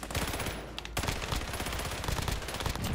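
Rapid SMG fire in Warzone's Fortune's Keep extreme mode, a dense machine-gun rattle of continuous sharp shots lasting throughout, close and loud with no talk over it.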